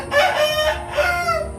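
A Mangon fighting rooster crows twice in quick succession, loud and close, the calls long and harsh with no one speaking.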